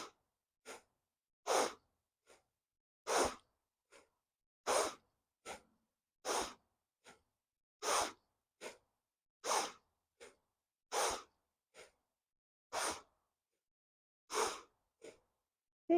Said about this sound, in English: go back to bellows breath